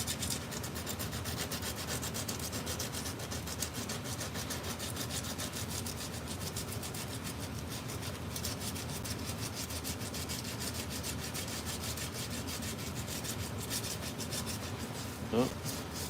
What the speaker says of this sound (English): Now you just rub your hand across right here.